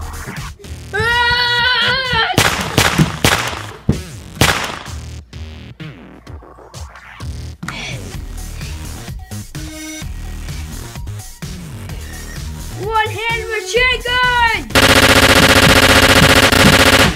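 Rapid bursts of gunfire from a staged backyard gunfight, loud and close, with short pauses between volleys and a steady harsh stretch of continuous fire near the end.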